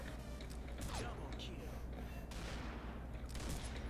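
Scattered gunshots from the video game Combat Arms, sharp bursts popping over a background hum, some close and some more distant.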